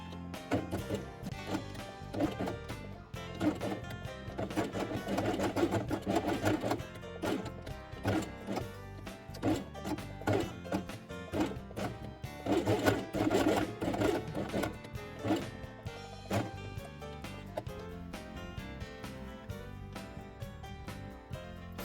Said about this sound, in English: put the red one in the middle and sew it along the edge